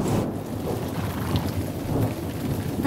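Steady rain pours down with a low rumble of thunder underneath, a continuous wash of storm noise without any talking.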